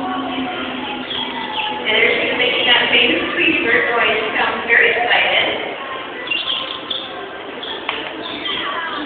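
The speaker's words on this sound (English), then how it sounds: "there she is making that famous squeaky bird noise. She sounds very excited" Winter, a trained marine animal beside her trainer Abby, lets out long excited squeaky bird-like chirps and whistles in a near continuous stream, with a voice talking over them.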